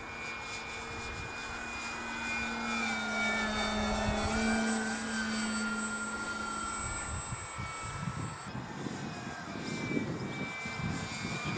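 A plane in flight on a gusty, windy day, with a steady droning engine and whooshing air noise, loud and continuous, the tone shifting slightly as it banks.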